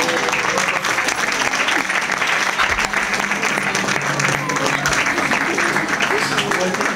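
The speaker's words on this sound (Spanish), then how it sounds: "Un fuerte aplauso." Loud, sustained audience applause fills the room at a cabaret-style ritual performance, steady clapping from a crowd continuing throughout without a break, with some voices mixed in.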